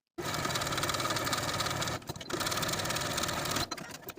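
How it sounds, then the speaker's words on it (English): Sewing machine edge stitching a velvet dress sleeve facing, a loud rapid steady whir running in two bursts with a brief pause between, close and alone. "Now I'm going to take it to the sewing machine and edge stitch close to that raw edge all the way around."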